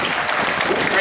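A short burst of crowd applause at a boat-building contest, dense steady clapping with a few voices mixed in, fairly close and loud throughout.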